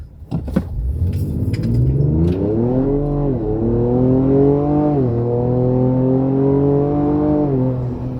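A Ford Ranger Raptor pickup in sport mode with the exhaust in Baja mode revs and accelerates, its engine note rising through successive gears in a loud, close, sustained roar.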